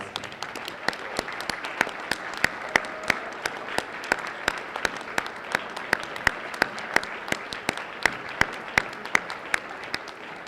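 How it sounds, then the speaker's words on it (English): Applause from a school district audience for teachers and staff, scattered claps in a roomy space with sharp, evenly spaced individual claps standing out over a softer background of clapping. "can we give them all a huge round of applause?"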